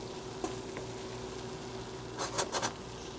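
Flour and red peppers are stirred in a pot on the stove for a cheddar and beer soup, a soft steady scraping sizzle with a few brief scrapes near the end, no voices.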